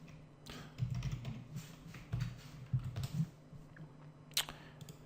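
Someone types an email address on a computer keyboard, quick clusters of light key taps with short pauses between bursts, close and fairly quiet, with no talking.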